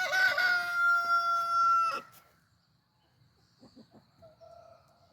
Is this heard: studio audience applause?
no